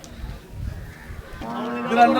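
Buffalo at a wholesale cattle market in Kerala giving a short low moo, close and fairly loud, rising into a brighter, harmonic call near the end over market background noise.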